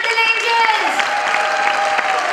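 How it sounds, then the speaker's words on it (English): A school annual function audience claps loudly and continuously, with dense crowd applause filling the whole stretch while a voice carries on underneath. "you all are going to give abundance of clap to our little"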